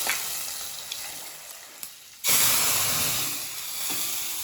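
Hot tempering poured into tomato rasam bursts into a loud sizzling hiss partway through, after a quiet stretch of faint kitchen noise, then settles into steady frying crackle.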